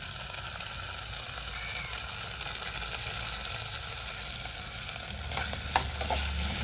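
Onion, green chilli and curry leaves fry in hot oil with a steady low sizzle, while faint stirring scrapes and a few clicks come in near the end.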